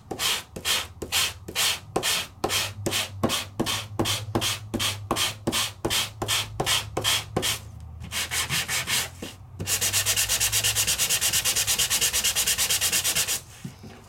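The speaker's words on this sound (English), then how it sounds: "it is going to take you a little more time and a little more effort to sand, because you're trying to sand off" Metallic-inked paper is sanded by hand, first in a run of rapid, evenly spaced rasping strokes, then a brief pause and a faster, continuous scrubbing burst, close and loud with no voices.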